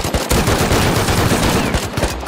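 Rapid automatic gunfire from the survival video game Rust, with loud, dense bursts of shots firing continuously and close up, on an iceberg base.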